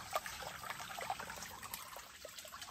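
Faint water trickles and gurgles steadily in a small clear stream, a soft continuous flow with a few small splashes, heard from close by with no talking.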